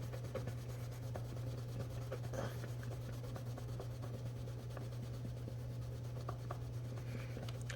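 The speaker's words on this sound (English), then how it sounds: "just start polishing and you'll see that it'll get shiny looking." Hand polishing on a repaired chip in a car tail light makes a soft, continuous rubbing and scrubbing over a steady low hum, close and fairly quiet.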